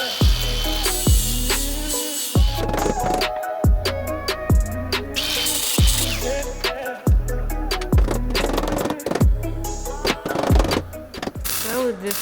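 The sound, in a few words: power tool cutting metal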